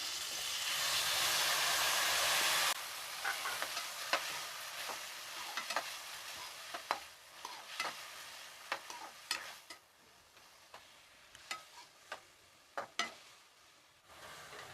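Tomatoes hit hot oil in a pan for tomato gojju: a loud steady sizzle at first, then frying hiss with repeated scraping clicks of a spoon stirring, close and alone.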